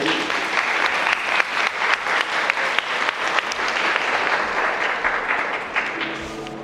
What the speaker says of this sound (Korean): 박수로 맞이해 주십시오.